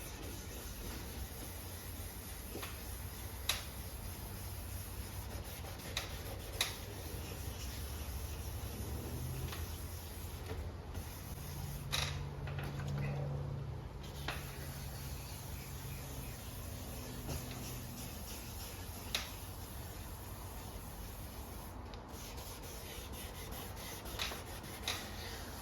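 A hand rubbing and polishing the headlight lens of a 2004 Dodge Ram with a renewal kit, producing a continuous low scrubbing and rasping in steady circular strokes, close by and moderately quiet, with no talking.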